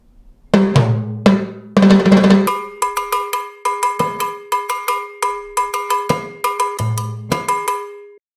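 Bright metallic cowbell strikes tapping out a mambo groove, starting with a few heavier accented hits alongside lower drum tones, then settling into a steady, repeating syncopated pattern of clear, close clanks.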